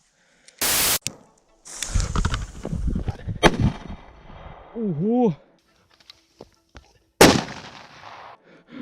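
A Super Banger firecracker explodes inside a tin of paint outdoors in a forest, with a loud sharp bang early on, a second loud blast near the end, and people talking and exclaiming between them.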